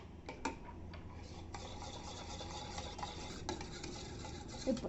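Chocolate cake batter with vanilla essence being mixed in a bowl, a soft continuous stirring and rubbing with occasional light clinks, quiet and close with no voices.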